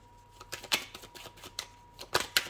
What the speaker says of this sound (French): Je vais tirer une carte là pour voir.